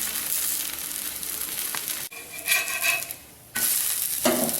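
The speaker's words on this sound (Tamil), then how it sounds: "ஒரு பக்கம் நல்லா ரோஸ்ட் ஆன பிறகு அடுத்த பக்கம் திருப்பி போடுங்க." A ragi and sago roti roasts on a hot pan, giving a steady close sizzle with scraping and pressing sounds as it is moved, briefly dropping off before the frying hiss returns.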